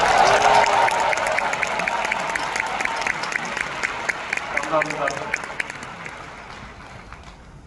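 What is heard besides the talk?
audience applause for speaker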